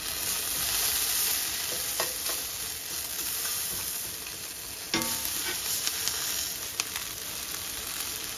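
Salted pumpkin seeds toasting lightly in a pan, giving a steady, close sizzling hiss with occasional stirring scrapes and small crackles throughout.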